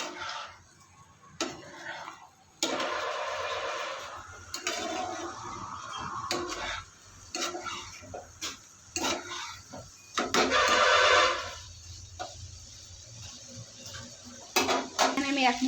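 Shrimp being stirred with salt in a pan, a recipe of okra and tiger prawns, giving irregular scraping and clinking of a utensil against the metal pan in bursts, loud and close, with gaps between strokes.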